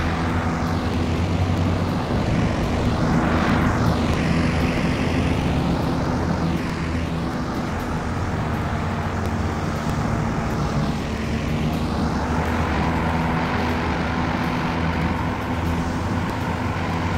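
A propeller aircraft engine drones in the VR flight game Final Approach, loud and continuous with slow sweeping rises and falls in pitch as the plane passes and turns, with no voices.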